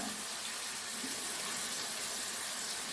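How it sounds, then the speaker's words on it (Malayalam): A steady, hissing stream of water pours continuously into a pan for a few seconds with no pauses, fairly quiet and close. "തീയലിനാവശ്യമായ വെള്ളവും ഒഴിച്ചു കൊടുക്കാം"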